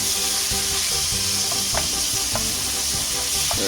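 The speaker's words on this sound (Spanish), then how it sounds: "Vamos moviendo la carne. Que se vaya mezclando, que se vaya sofriendo." Marinated beef frying in a pan makes a loud, continuous hiss and sizzle, close up, with a few faint stirring knocks under the steady crackle.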